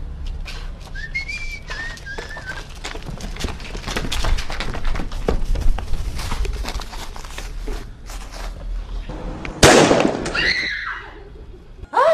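A firecracker tossed from a window during a family Christmas gathering goes off with a sharp, loud burst near the end, with a hiss and whistle trailing it, after a noisy stretch of background bustle and whistling.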